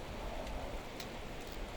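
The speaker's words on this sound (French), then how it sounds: "Nous passons la journée sous la pluie, trempés sous nos ponchos," Steady rain falling outdoors during a trek across Iceland, a dense even hiss of drops with no pauses, moderately loud and close, with no voices.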